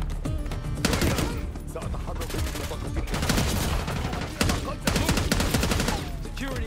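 Sustained automatic gunfire during a Call of Duty Black Ops 6 campaign firefight, dense rapid bursts continuing throughout with a few sharper shots standing out.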